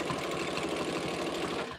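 A sewing machine stitches Cuddle plush fabric under the presser foot, running at a fast, steady mechanical rhythm close by for under two seconds with no talk.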